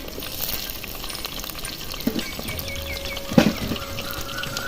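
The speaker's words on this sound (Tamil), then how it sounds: "வெந்தயம் போட்டுக்கலாம். கடுகு வச்சிருச்சுங்க. வெங்காயம் போட்டுக்கலாம்." Onions, fenugreek and mustard seeds frying in hot oil, a continuous bright sizzle with a few sharp crackles and pops near the middle.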